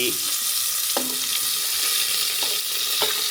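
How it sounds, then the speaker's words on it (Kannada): Onions sizzle in hot oil in a pan with a constant bright frying hiss, while a few soft stirring knocks land at intervals; nobody talks. "ಈರುಳ್ಳಿ ಹಾಕಿ ಮಿಕ್ಸ್ ಮಾಡ್ಕೊಂಡ್ರು"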